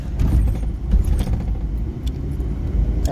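A car cruises along the road with dad at the wheel, heard from inside the cabin as a loud, steady low rumble of engine and road noise, with light rattling and no talking.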